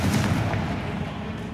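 A Confringo blasting spell in Hogwarts Legacy bursts into a deep, muffled boom with a low rolling rumble that fades out, heard alone.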